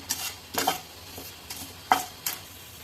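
Whole garam masala spices dry roasting in a pan, stirred with a utensil so they scrape and rattle in several quick bursts, each followed by a faint sizzle, close up with no voices.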